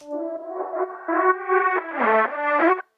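An electric guitar lead phrase, processed with reverb, sidechain and filter, sounds filtered and washed in reverb, its volume pumping in rhythmic swells before fading out at the end.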